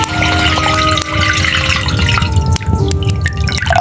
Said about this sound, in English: He poured cool, clear water into a large copper basin. Splish splash went the water.